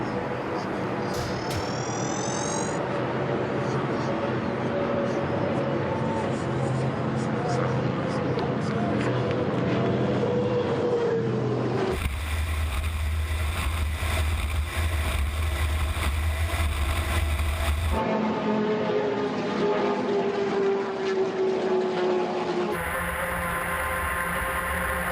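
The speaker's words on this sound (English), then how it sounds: "The sweet sounds of offshore powerboat racing." Offshore racing powerboats at the Solomons Offshore Grand Prix drone past with loud engines rising and falling in pitch, some passes near and some more distant, interrupted by abrupt changes in sound, with voices talking across parts.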